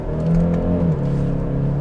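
A 2022 Genesis GV70 2.5T SUV accelerates in second gear, its steady low engine drone rising with a pitch shift partway through, heard from inside the cabin with no talk.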